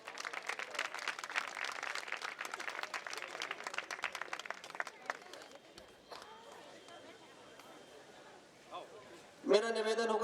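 An audience at a Jain religious gathering applauds to honour a guest being welcomed with a turban, a dense, steady burst of clapping that fades out, followed by someone speaking over a microphone.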